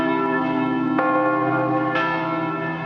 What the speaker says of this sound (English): Bells tolled, there was silence